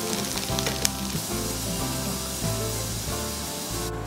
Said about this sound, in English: when the butter melts, add to it chopped garlic and saute it till it is brown.